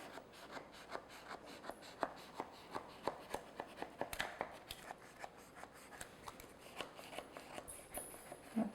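A knife slices through millionaire shortbread bars, cutting them into small squares on a board, giving a steady run of sharp, close taps and crunchy cuts at an even rhythm, fairly quiet with no talking.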